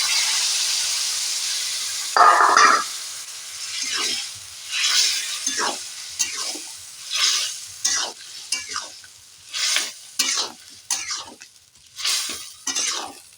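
Vegetables frying in spiced oil as they are stirred for a Bengali dish of pui shak, kochu and fish head, with loud bursts of sizzle and scraping strokes recurring every second or so, alone without talk.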